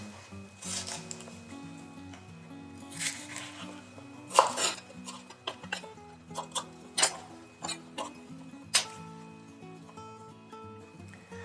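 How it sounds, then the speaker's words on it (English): A knife chops a bell pepper into julienne strips on a cutting board, giving a series of irregular, sharp taps that come close and clear over a soft background tone. "how to chop a pepper into nice julienne easily and safely"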